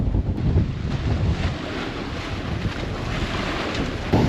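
A 25-knot squall at sea buffets the microphone on a sailing catamaran crossing from the Tiputa pass at Rangiroa. Wind roars loudly and steadily throughout, with a low rumble of water beneath it.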